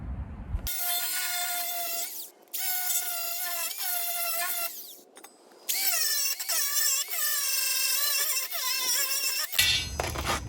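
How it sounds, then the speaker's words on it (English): An angle grinder cuts into steel on a Jeep WJ frame in a series of loud, close, high-pitched whining passes, each broken by short pauses, with a grating scrape as the disc bites the metal. "I'm going to start doing some grinding"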